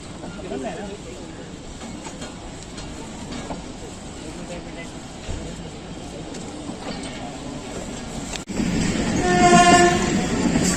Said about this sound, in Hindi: डाउन मिलत एक्सप्रेस फैसलाबाद में एंटर हो रही है